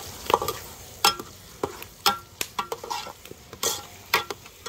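Chicken noodles with eggs stirred in a pan over an outdoor wood fire for Sri Lankan kottu mee, a low sizzle beneath repeated scraping and clanking strokes of a spoon in an irregular rhythm, no talking.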